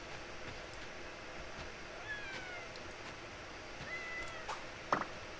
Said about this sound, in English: This cat is so adorable.